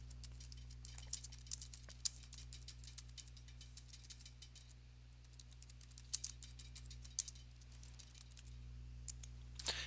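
Fingers type on a computer keyboard in quick, irregular bursts of soft key clicks over a steady low electrical hum, fairly faint and close.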